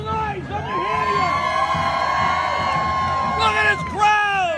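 A large crowd at a parade cheers and shouts together, with loud overlapping whoops and sustained yells close by, a few voices rising above the roar.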